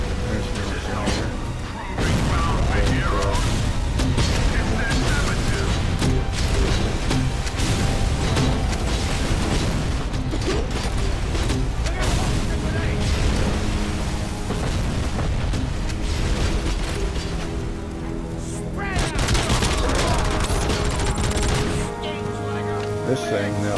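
Automatic gunfire in the shooter game Robocop: Rogue City, dense sustained bursts and booms filling the mix almost continuously, with a short lull near the end and game music underneath.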